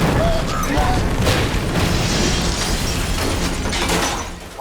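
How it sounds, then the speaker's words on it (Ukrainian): A loud, sustained explosion roar with rumbling debris and crackling, filling the space for several seconds before fading slightly. "Вибух таки відбувається, як було задумано"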